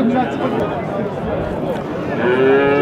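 A cow moos loudly at the start and again near the end, over a busy background of crowd murmur and livestock noise.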